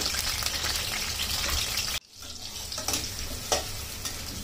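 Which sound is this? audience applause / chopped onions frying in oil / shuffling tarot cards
chopped onions frying in oil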